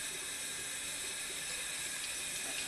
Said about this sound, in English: Turn on my water.